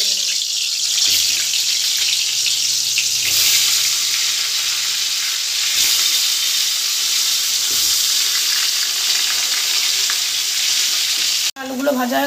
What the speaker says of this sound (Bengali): গরম হয়ে গেছে, আলুগুলো ভেজে নেবো।